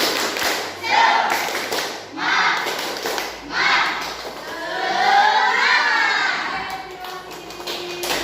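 A class of children claps in short rhythmic bursts of spirit clapping, pausing between sets, with voices chanting and calling along with the claps.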